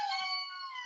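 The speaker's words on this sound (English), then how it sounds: "as you can hear, that is the sound of the Indri." An indri lemur calling in the Madagascar rainforest, a brief clear wailing, howl-like note with rich harmonics, heard alone for about a second.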